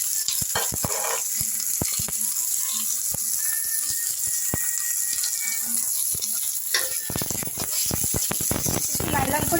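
Chopped onions frying in hot mustard oil in a wok, a continuous bright sizzle with scattered crackles and spatter pops, stirred now and then, while someone talks over the cooking.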